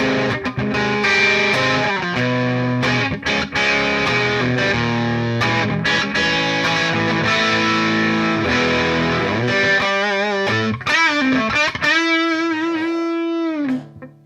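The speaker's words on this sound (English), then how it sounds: "Here's probably my favorite overdrive I've gotten. It's using the Gibson, the real small Gibson amp." An overdriven electric guitar plays through a Line 6 HD500 modelling a small Gibson amp, with crunchy strummed chords followed by single-note lines and bends, ending on a long sustained note, loud and alone.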